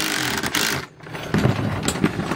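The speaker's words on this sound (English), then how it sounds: "I'm going to put my wrench on the back, this on the front. We got to turn in the right way and zap them." A power wrench zaps bolts tight while a snow plow is assembled, giving loud whirring bursts with a brief pause in between.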